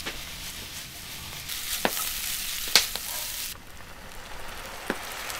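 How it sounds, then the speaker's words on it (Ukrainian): Sliced red onion half-rings sizzle in hot oil in a frying pan, a soft steady crackle with a few sharp pops and clinks of stirring. "Розігріваємо олію на пательні та висипаємо цибулю смажити."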